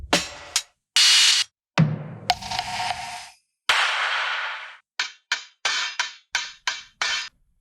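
Boom bap drum samples played one after another: punchy kicks, snares, claps and crisp hi-hats, each hit separated by short silences, loud and dry with no accompaniment.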